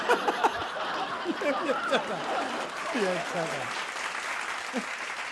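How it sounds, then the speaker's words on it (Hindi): An audience applauds at a Hindi comedy poetry gathering (hasya kavi sammelan), a steady clapping wash running under a voice throughout. "और ये हाथ तब तक यहां रहेगा जब तक जोरदार नहीं बजाओगे"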